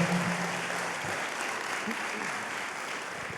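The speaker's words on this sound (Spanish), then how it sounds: "Si va a aplaudir, aplaudan al Señor" A church congregation applauds at a moderate, even level for a few seconds, with a voice briefly audible at the start.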